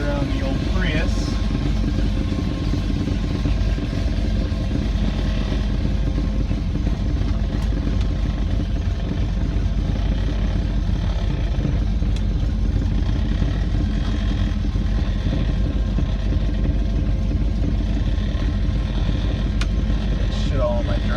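A 2016 Ford Mustang drives along with a constant engine drone and road roar heard from inside, a steady loud rumble throughout with a few faint clicks.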